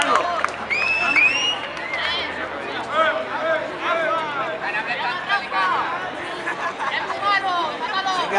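Crowd at a Ficzone'14 convention combat show cheering and chattering in a steady mixed roar, with whistles and voices rising over the noise and a commentator talking throughout.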